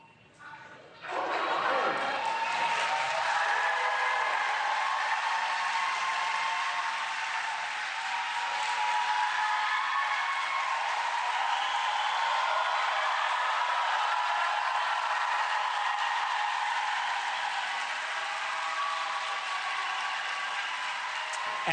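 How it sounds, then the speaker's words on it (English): Protesters inside the US Capitol raise loud, sustained cheering and clapping as arrests begin at a ceasefire demonstration, a dense crowd roar that swells in after a brief quiet start and holds steady throughout. "the reason you're hearing cheering is because people are starting to be arrested"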